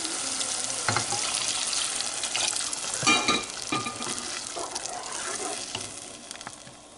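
Steady broadband sizzling and frying of chana masala, with a burst of splashing and bubbling around the middle as water hits the hot pan; no voices.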